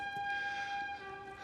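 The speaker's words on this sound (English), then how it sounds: "I love that train." A train passing outside sounds its horn, a steady, sustained tonal blast that is heard faintly and drops in pitch partway through.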